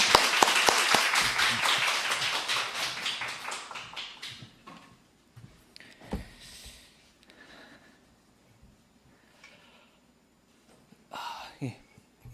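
A church audience at a summer revival meeting applauds to welcome a visiting missionary. The loud, dense clapping fades out over several seconds, then gives way to someone talking with a few scattered taps.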